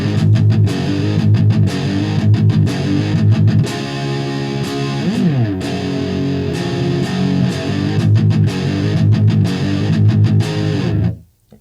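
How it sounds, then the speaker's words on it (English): Electric guitar played straight into a Marshall JCM 800 amplifier with no pedals, loud and continuous with strummed chords, sustained notes and a bending phrase midway, ending abruptly. "That's just a Marshall JSAM 800 and me and the guitar."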